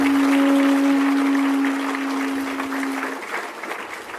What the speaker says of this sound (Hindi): सब एक दूसरे के उत्साह वर्धन में तालियों की गड़गड़ाहट करें।